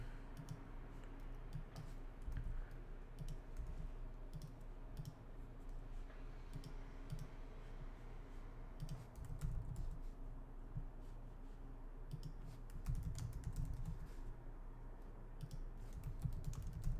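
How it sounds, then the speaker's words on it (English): Quiet, close computer keyboard typing with scattered clicks and short runs of keystrokes over a low steady hum, continuing for a long stretch without speech. "so I just type it in"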